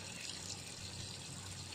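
Water pours steadily into an azolla mother pit, a continuous hissing gush of filling liquid with no break across the short stretch.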